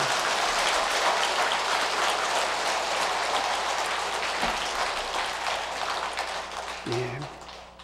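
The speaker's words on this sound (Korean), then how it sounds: "이럴 때 박수를 한번 쳐야 되는 거예요" An audience at a Buddhist dharma lecture claps together, a dense, even roar of hands that runs for several seconds before tapering off, with a brief low voice sound near the end.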